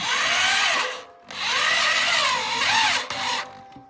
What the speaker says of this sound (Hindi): इसी ड्रिल मशीन से जो है ना इसको यहाँ पे टाइट कर लेना है।